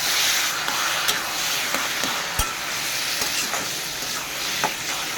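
Prawns stir-frying with ground cumin, coriander and pepper in a pan, a steady close sizzle with scattered scraping stirs and clinks, no voices.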